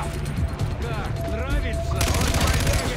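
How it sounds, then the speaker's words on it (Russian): Rapid gunfire in Far Cry 4 crackles in bursts over someone talking, with a denser volley of shots in the last second. "Кто там в меня стрелял, а? Сволочь, ну стреляй же."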